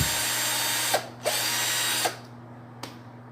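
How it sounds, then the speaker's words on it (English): An old cordless drill powered by a DeWalt lithium-ion battery whirs steadily at close range, with its motor briefly dipping and surging in short pulses before a lower run-down and a final click, no voices. "you should just simply slide that in, and you can use now the drill"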